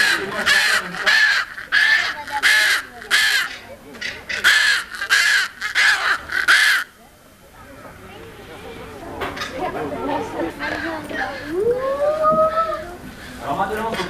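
Birds call loudly at an eagle show, with a run of harsh, crow-like caws in steady rhythm followed by quieter chatter and rising whistled calls over background voices.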